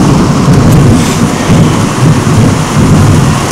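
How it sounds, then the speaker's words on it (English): Thunder rumbles through a summer thunderstorm in Cleveland, Tennessee, a loud low roll blended with steady heavy rain, continuous and close, with no voices. "We usually get thunderstorms a lot in either in the spring or summertime."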